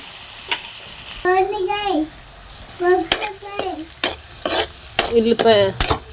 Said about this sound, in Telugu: ఉల్లిపాయలు వేగుతుంది